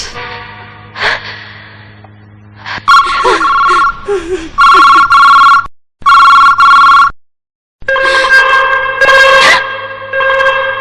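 A loud telephone rings in repeated bursts, broken by short pauses, with gasps and voices in between.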